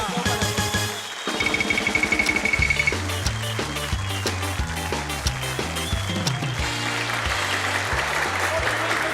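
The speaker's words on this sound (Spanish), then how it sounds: "Un aplauso para Barbarita" A television comedy show's studio audience applauds for a guest, the clapping mixed under loud upbeat music with a thumping bass line and brassy accents that carry on throughout.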